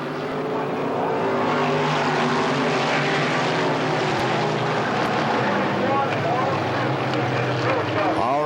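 Race cars roar together on the Kil Kare Speedway oval as the green flag drops, a dense, steady wall of engine noise with a commentator talking over it throughout.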